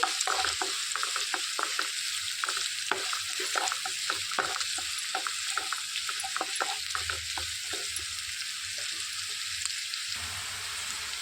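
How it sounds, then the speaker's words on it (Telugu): Onions and dried red chillies frying in a pan, with a steady crackling sizzle throughout and frequent sharp scraping taps from stirring that stop near the end. "ఇందులోనికి 2 ఎండుమిర్చి కట్ చేసి పెట్టుకున్నాం, వాటిని వేసుకొని వేయించుకోవాలి."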